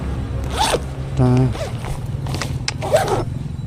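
A clothing zipper is tugged a few times up close, with several quick rasping pulls, one longer grinding stretch, then another short zip, fairly loud against a faint background hum.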